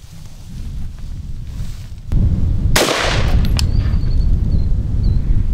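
A shot sets off one pound of tannerite outdoors, a sudden heavy blast with a sharp crack followed by a long rumbling boom and wind buffeting the microphone.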